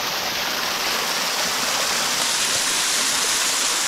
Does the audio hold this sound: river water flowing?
yes